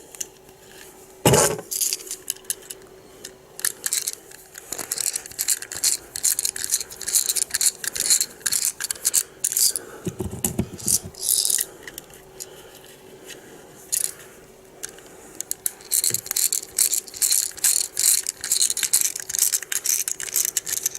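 Small screws being driven back into a homemade REM ghost-hunting device, heard up close as a dense run of sharp metallic clicks, ticks and rattles of a screwdriver working the casing, with brief louder knocks and no talking.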